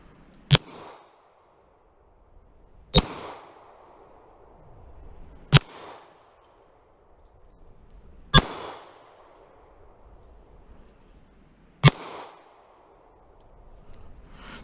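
Five sharp pistol shots from a Wilson Combat Centurion Tactical crack out at slow, even intervals of roughly three seconds, each with a short echoing tail in an open setting.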